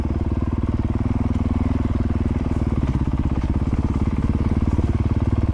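Honda CRF450RL dirt bike engine running steadily on a forest trail in Beartown State Forest, Western Massachusetts, a close, loud, even idle-like thrum with a rapid pulsing beat throughout, no voices.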